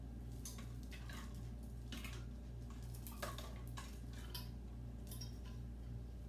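Metal jar lids clink and tap against glass jars of orange marmalade in a string of light, separate knocks over a low steady hum, faint and close with no talk.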